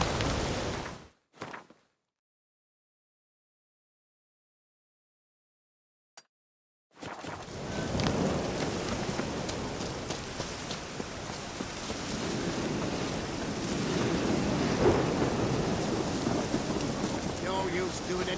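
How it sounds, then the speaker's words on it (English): Heavy rain pours steadily with rumbling thunder after a brief burst and a silent gap, a dense, loud wash that swells and rolls on continuously. "No use doing any work in this rain."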